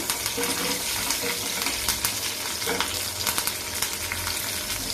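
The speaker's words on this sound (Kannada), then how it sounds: "ಇದನ್ನು ಸ್ವಲ್ಪ ಈ ಥರ ಫ್ರೈ ಮಾಡ್ಕೋಬೇಕಾಗುತ್ತೆ" Spices for a sambar tempering sizzle and crackle in hot oil over a medium flame, a loud continuous frying hiss with sharp pops and occasional stirring, no voices.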